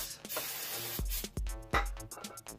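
Brake cleaner hisses from an aerosol can onto a motorcycle's front brake rotor and pads in several short, sharp bursts, close by, with no talk.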